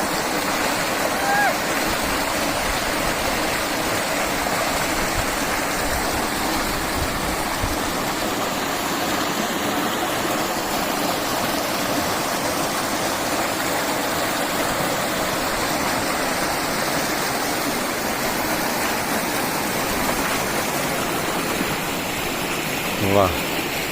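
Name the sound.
flowing stream water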